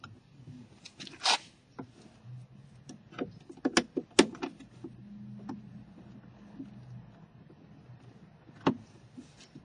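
Scattered plastic clicks and sharp snaps as a Jeep JK door panel is pried loose, close up, with quiet scraping between the pops.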